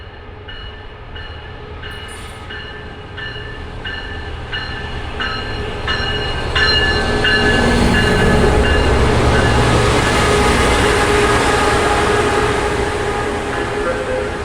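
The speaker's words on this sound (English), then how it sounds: "The train finally got here." An Amtrak passenger train rumbling loudly into a station, with rhythmic clanking wheels and a rising high-pitched squeal of brakes as it slows.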